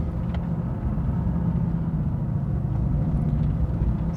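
A 2016 Mercedes-AMG GT engine under throttle through a corner makes a steady, loud low rumble that holds for the full length, close and continuous inside the cabin with no talking.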